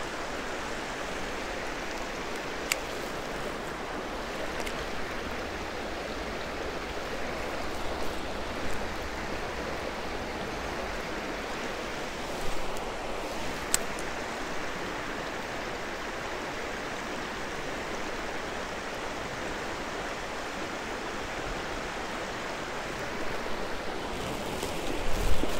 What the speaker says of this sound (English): Fast moving water to like a little pool here.